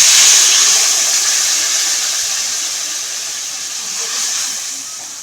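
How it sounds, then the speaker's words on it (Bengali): Water poured into a hot pan of rohu fish curry with salt and spices gives a loud, steady sizzling hiss that slowly fades over several seconds, with a brief swell near the end. "এবারে দিয়ে দেবো পরিমাণ মতো জল।"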